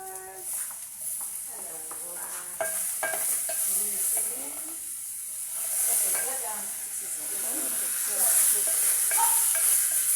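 Tomatoes fry and sizzle in a pan for kalo and omena, with a steady frying hiss and occasional stirring scrapes. A person talks over the cooking throughout.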